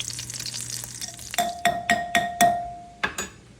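Vegetables for a zucchini quiche fry quickly in a pan with a soft sizzle, broken by a quick run of sharp clinks and taps from a utensil against the pan.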